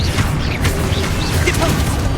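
A Confringo spell blast goes off during combat in the Hogwarts Legacy video game, a loud burst of booming, whooshing magical effects with sharp swishes amid a dense game soundscape, with a voice shouting briefly.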